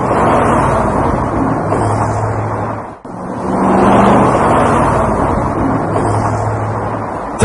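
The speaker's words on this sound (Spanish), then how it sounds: "Tráfico urbano, 80 decibeles" Urban road traffic, a loud continuous roar of vehicles passing close by, swelling and easing with a brief dip before building up again.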